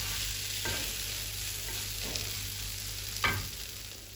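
Shrimp roast sizzles steadily in a pan while a spoon stirs it, with a few soft scrapes over the constant frying hiss, close and alone without speech.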